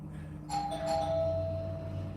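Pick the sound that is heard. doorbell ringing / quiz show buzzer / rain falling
doorbell ringing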